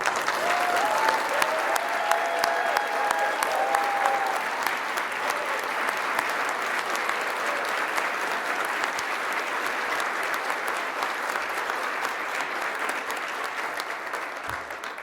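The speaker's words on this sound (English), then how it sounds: "Please stand and let's give them a round of applause." Sustained audience applause fills an awards ceremony for the EcoCAR EV Challenge, steady and dense for about fifteen seconds, with a few faint voices and whoops mixed into the clapping.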